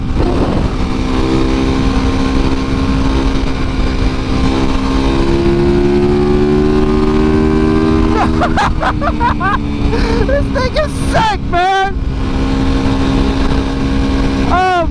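A Yamaha WR250R motorcycle cruises on the highway, its engine droning loud and steady, then revving up sharply as it passes, with a rider talking over the noise.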